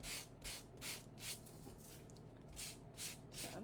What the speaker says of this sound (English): sanding with this sanding block